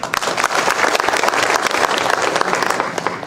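Dense, steady applause from a large crowd at an employment fair event, clapping for Sharad Pawar and sustained for several seconds with no speech.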